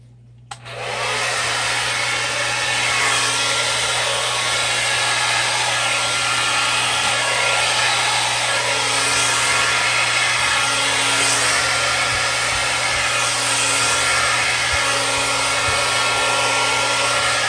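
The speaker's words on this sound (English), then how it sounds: "All right, here comes the blow dryer." Hair dryer blowing on freshly poured acrylic paint in a Dutch pour, switching on with a quick rise and then holding a loud, steady whooshing whine close by for the rest of the clip, with no talk.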